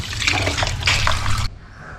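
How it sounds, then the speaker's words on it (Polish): Gutted fish are rinsed under running water, a close splashing, gurgling flow with drips that cuts off abruptly partway, leaving quiet room noise. "Trzykrotnie je płuczę, żeby mieć pewność, że są czyściusieńkie."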